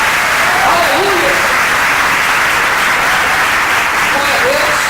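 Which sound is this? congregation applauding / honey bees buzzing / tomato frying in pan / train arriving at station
congregation applauding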